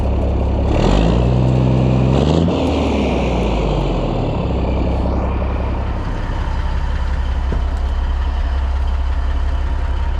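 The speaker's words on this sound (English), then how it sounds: "It's time to take this thing for a ride with the straight pipe, the cat back exhaust." A 1981 Peterbilt 359 truck with a straight-pipe, muffler-delete exhaust rumbles loud and close with a deep, steady drone, rising and falling in pitch early on as the engine revs, then settling into a constant roar.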